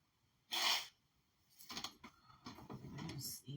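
A single sharp sneeze bursts out after a quiet moment, followed by softer breathing and rustling sounds.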